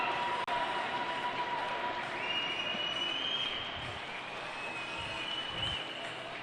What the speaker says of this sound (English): the Cardinals come back out to the ice to a sea of boos and cheers from this capacity crowd